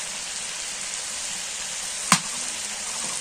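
Fish frying in hot oil in a pan of cooked-down spiced masala gives a steady close hiss and sizzle, broken by one sharp clack partway through.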